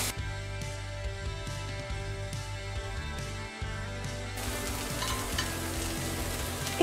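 Coriander leaves fry in a pan while being stirred, a continuous close sizzle with light scraping that turns brighter and crackling partway through.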